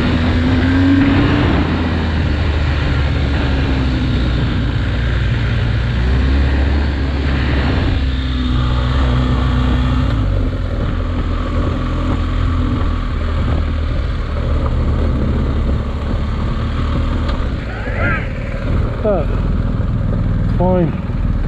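A BMW R1250GS motorcycle churns its engine in a steady loud drone while the rear wheel spins, the note rising and falling with throttle, with people talking over it.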